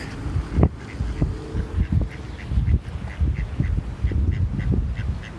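A duck quacks repeatedly in short, fairly close bursts, with an irregular rhythm over a low background murmur.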